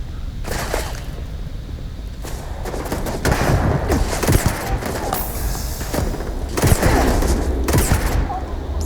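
Rapid, heavy bursts of Magpulse weapon fire in the sci-fi game Starfield, loud and continuous with booming impacts layered over a dense, roaring combat backdrop.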